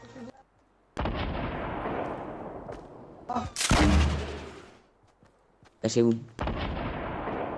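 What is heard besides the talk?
grenade exploding in the air in video game Fortnite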